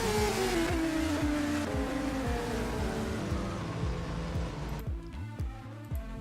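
Formula 3 race cars on warm-up laps at Autopolis International in the rFactor 2 racing game, with several engines droning and revving through gear changes, rising and falling in pitch as cars pass, steady and continuous without speech.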